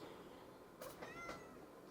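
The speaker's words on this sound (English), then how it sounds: "He likes to tell you how he's feeling. He meows" A happy, outgoing pet cat gives two short meows close by, clear above a steady hiss of room noise, with no voices.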